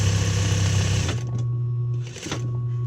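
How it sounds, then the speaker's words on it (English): An industrial sewing machine stitches fabric at high speed for gathered ruching on a garment, a loud close-up motor drone that drops in pitch after a second, pauses briefly near the end, then resumes. "sewing machine is so fast because it's industrial"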